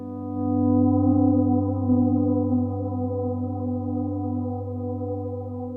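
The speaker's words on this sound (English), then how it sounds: "you can do this cool little half step bend that'll give it just a little bit of flavor" Electric guitar swelling in softly with volume, a sustained low chord tone that rises then holds steady, with a subtle half step bend adding flavour to the note; played alone, no voices.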